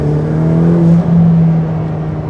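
Ferrari F8 Tributo engine droning loudly in race mode, a steady low growl with a brief rev swell midway, heard from inside the car without talk.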